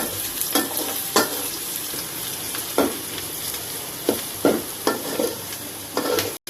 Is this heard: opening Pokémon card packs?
no